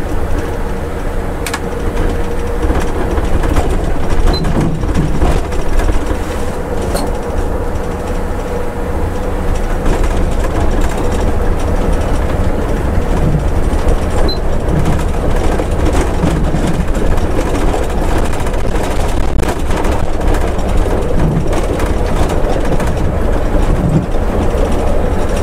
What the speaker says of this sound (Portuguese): É um túnel, já vamos sair.